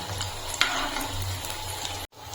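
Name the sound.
frying snacks in hot oil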